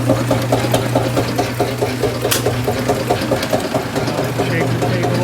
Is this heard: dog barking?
no